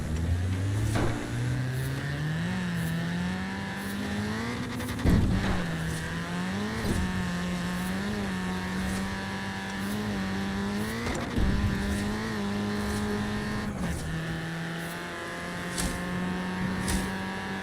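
Racing car engine in Forza Horizon 4 holds a steady high drone through gear shifts, with pitch rising and settling, plus occasional sharp knocks and impacts; a faint voice talks now and then.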